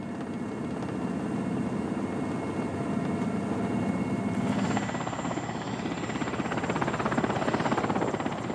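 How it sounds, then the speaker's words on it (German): Helicopter approaching a landing site near a research camp in Kamchatka, heard from inside as a loud, steady rotor chop and turbine whine that continues throughout. "In der Nähe eines Forschercamps peilt unser Helikopter den Landeplatz an, um die Gruppe hier abzuliefern."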